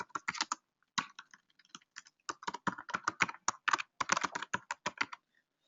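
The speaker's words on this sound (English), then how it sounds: "I'm going to type in his email address." Someone types an email address into a vendor contact form in accounting software, producing bursts of quick, close computer-keyboard clicks with short pauses between groups of keystrokes, clear and alone with no talking.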